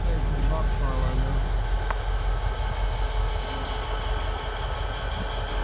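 A GP40 diesel locomotive and train roll through a rail yard with a loud, continuous rumble and engine drone, steady throughout with a faint clack or two, and a voice briefly audible beneath.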